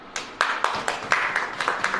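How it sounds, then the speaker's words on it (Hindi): A church congregation claps in a brief burst of sharp, fairly even hand claps that build into several rapid beats in a roomy space. "ताली बजाइए"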